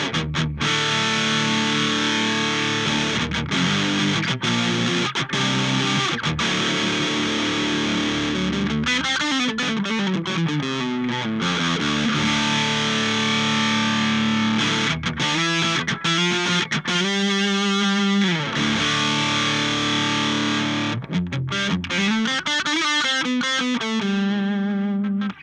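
Electric guitar through a Lekato Black Tank distortion pedal on its vintage setting: thick, saturated chords and riffs played loud and continuous, with short breaks and rhythmic stabs.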